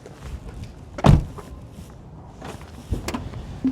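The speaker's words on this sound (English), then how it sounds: "So we're gonna close the door right here." A Toyota Sienna power sliding door closing outdoors in the cold, with a solid thunk near the start, quieter motor and rolling noises, then another latching clunk toward the end.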